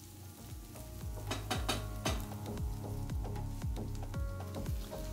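Chopped garlic sizzles and fries in a pan with lamb shanks, a steady close hiss with stirring and utensil clicks spread through.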